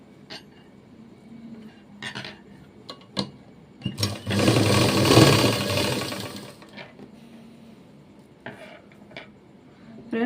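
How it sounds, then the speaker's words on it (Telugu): A sewing machine runs a joint seam on a blouse sleeve: a single loud burst of whirring stitching lasting about two seconds, set among quieter ticks and handling clicks. "ముందు ఒక్కొక్క కుట్టు వేసేసుకొని జాయింట్ వేసేసుకోండి"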